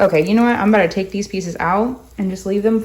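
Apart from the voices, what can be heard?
No distinct noise like a dog, phone or traffic.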